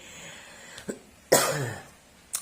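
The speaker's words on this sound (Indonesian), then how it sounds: "masih agak sedikit batuk" A person coughs close up: a small throat catch, then one harsh, heavy cough, and the start of another at the end.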